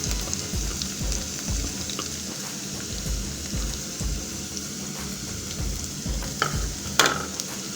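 Ginger and coriander stems frying for egg curry, a steady close sizzle over medium heat with regular scraping stir strokes and a few sharper utensil clinks near the end.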